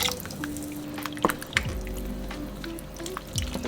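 Beef broth poured from a 32-ounce box into a pot of taco soup with diced tomatoes, giving a steady liquid glug and splash with a few drips, close and alone.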